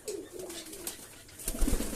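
Pigeons at an evening feeding give low, soft coos in a few short bursts near the listener, with light fluttering and rustling in a rainy-season setting.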